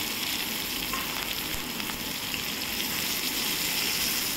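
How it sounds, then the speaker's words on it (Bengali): Cumin, onion and green chili frying in hot oil, a steady dense crackling sizzle that holds at an even, fairly close level throughout, with faint scattered pops. "এবার দেব জিরে, আর পেঁয়াজ কাঁচা লঙ্কা এবার দিয়ে ভেজে নেব।"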